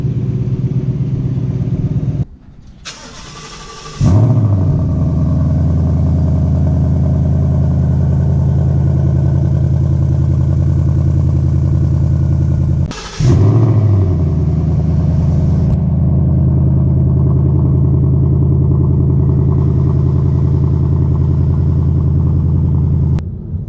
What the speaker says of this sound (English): my 4th favorite thing about this car would have to be the exhaust and the quad exhaust tips